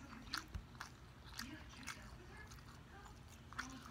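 Quiet, close chewing of fried fish without crunchy skin, with a few soft crunchy bites and wet mouth sounds, spaced irregularly, at low volume.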